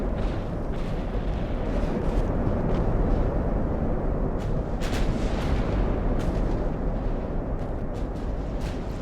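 Battleship naval gunfire in the game Ultimate Admiral: Dreadnoughts, a dense continuous roar of heavy booming blasts and rumbling explosions with occasional sharper cracks, loud and unrelenting throughout.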